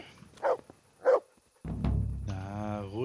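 Two short barks from a dog in Kingdom Come Deliverance, set in medieval Bohemia, sound in the first second. A voice follows, joined by a low rumbling underneath.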